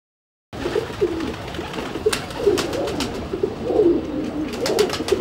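Imamdin pigeon cooing close by, repeated low soft coos in a rhythmic series with occasional sharp clicks and rustles in the background.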